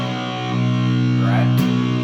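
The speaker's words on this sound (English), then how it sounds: "go for like a large hall reverb sound to get kind of just that big open space sound" An electric guitar plays in a tone set up for a riff, drenched in a large hall reverb. Sustained, distorted chords ring and blend with a long wash of echo, and a bright scrape appears partway through.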